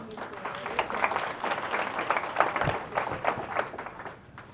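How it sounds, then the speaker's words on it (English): Audience applause at a caregiver conference, a steady patter of many hands clapping at moderate volume, with scattered louder claps and some crowd noise mixed in, fading slightly toward the end. "Give yourself a round of applause."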